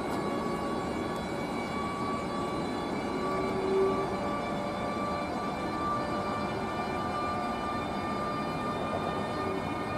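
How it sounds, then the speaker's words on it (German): An ÖBB class 1216 Taurus electric locomotive departs on the Brenner south ramp, giving off steady layered tonal whines over a continuous broadband rumble that holds evenly loud throughout. "Und das war jetzt der Abfahrtssound von der 1216."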